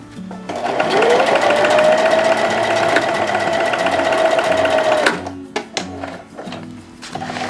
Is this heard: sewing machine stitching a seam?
yes